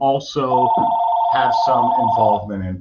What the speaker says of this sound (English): Please excuse the phone.